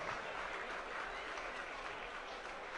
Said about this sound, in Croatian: Dame i gospodo, molim jedan veliki aplauz.